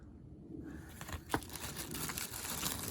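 A plastic bag holding small monster figures crinkles and rustles close by as it is opened, with irregular soft crackles and one sharper crunch partway through.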